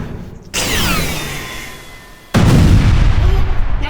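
Two loud artillery blasts, the first with a falling whistling tone and a long decaying rumble, the second a heavy boom with sustained roaring echo.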